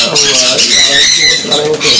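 Loud, continuous chorus of caged conures, cockatiels and lovebirds calling and chattering up close at a bird farm in Kolkata, layered with bright squawks throughout.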